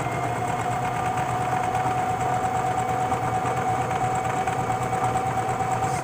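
Singer Heavy Duty 4452 sewing machine running steadily, a continuous motor whir with a fixed pitch and a constant loudness throughout, with no pauses and no voices.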